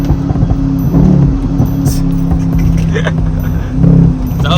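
A Chevy Camaro SS with a crackle-and-pop exhaust tune, its engine loud and close, swelling in two brief blips of throttle over a steady rumble, with sharp pops and crackles between.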